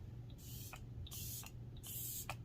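Three short bursts of a fine makeup setting spray from an aerosol can, each a bright hissing puff about half a second long, close by, with a fan humming steadily underneath.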